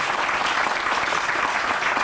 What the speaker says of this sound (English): Can we bring him out with a round of applause?